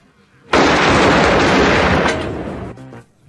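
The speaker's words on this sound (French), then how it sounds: "Lors de la fusillade finale" Gunfire erupts in the final shootout of Reservoir Dogs, a sudden loud wall of blasts that holds for about two seconds, then fades into ringing echoes and a brief low murmur.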